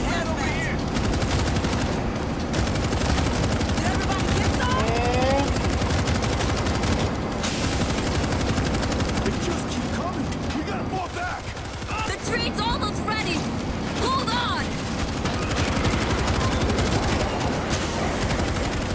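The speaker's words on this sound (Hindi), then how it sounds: "यहाँ पे एक और मेरे को मशीन गन मिल चुकी है" Continuous machine gun fire in the World War Z video game, a dense, loud, close fusillade of rapid shots that runs nearly nonstop, with brief lulls and mechanical clatter, while someone talks over it.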